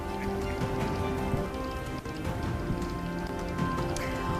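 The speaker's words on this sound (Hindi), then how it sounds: "राजधानी दिल्ली के कई इलाकों में आज सुबह छिटपुट बारिश देखने को मिली।" Rain patters steadily on surfaces during a winter morning shower in Delhi, a dense, close hiss of drops that carries on without pause under faint background noise.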